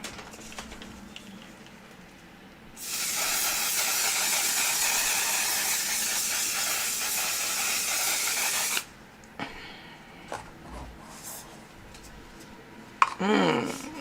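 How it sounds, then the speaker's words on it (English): One Size On Till Dawn mattifying waterproof makeup setting spray misting out in a single long, loud, continuous hiss of about six seconds, with quiet handling sounds before and after. "with the One Size On Till Dawn Mattifying Waterproof Setting Spray"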